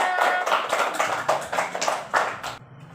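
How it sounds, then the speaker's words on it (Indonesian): Children in an elementary school classroom clapping their hands together in quick rhythmic bursts, close and fairly loud, a patterned series of claps that stops suddenly near the end. "Tepuk tangan anak-anak"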